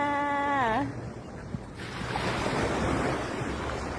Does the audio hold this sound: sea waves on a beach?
yes